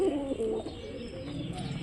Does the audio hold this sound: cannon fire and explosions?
no